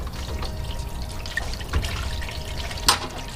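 Coolant drains from a Mazda Miata radiator with the top radiator cap opened, a steady watery trickle and drip running close by, broken by a couple of brief splashy knocks.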